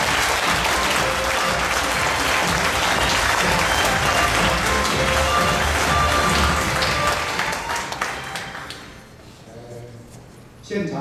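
A large audience at a Lunar New Year concert claps loudly and continuously for a speaker walking on stage, a dense sustained roar of hands lasting about eight seconds before tapering quickly into quiet.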